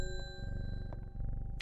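Doorbell in the video game Strange Horticulture, a bright ringing chime with sustained tones over game music, with a short second ding near the end.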